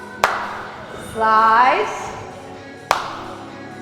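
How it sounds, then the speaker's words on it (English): Two sharp hand claps during a school dance exercise routine, one early and one near the end, crisp and close, with an instructor's voice in between. "Slide, add 2 claps."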